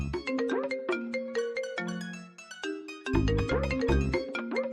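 A melodic phone ringtone plays a bright, chiming tune that repeats, moderately loud, with no talking over it.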